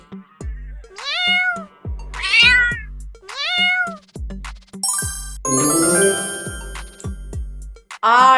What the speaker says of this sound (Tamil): பூனை